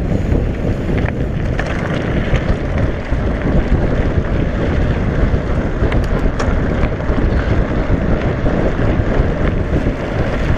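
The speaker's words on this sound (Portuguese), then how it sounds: "Que vento, hein?" Strong wind roars steadily and loudly across the microphone during a mountain bike ride, a dense rushing noise that lasts the whole stretch with no voices.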